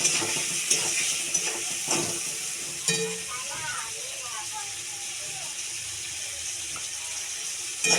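Food stirred in a pan with salt and turmeric, scraping clinks and a light sizzle at first, then quieter frying with a faint voice in the background.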